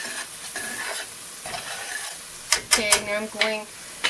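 Seasonings are stirred through a sizzling frying pan while making Spanish rice, with a utensil scraping and clattering against the pan over steady frying and a few loud knocks near the end. A voice is briefly heard.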